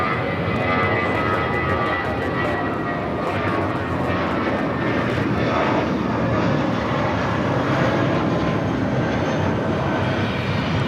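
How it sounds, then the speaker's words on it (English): A Falcon business jet takes off from runway 25 right at LAX, its engines producing a loud sustained roar with a steady whine on top, alone and without speech. "only 25 right, clear for takeoff."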